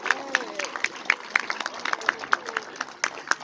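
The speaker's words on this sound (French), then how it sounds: "On va applaudir très fort." An audience at a show in the Paris zoo claps, with a scattered run of fairly close, sharp hand claps under a speaking voice.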